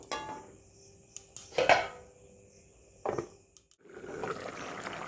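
Lentil fritters are stirred in a pot of curry, with sharp metallic clinks and scrapes of utensil on pot between quiet pauses and a soft wet rustle near the end.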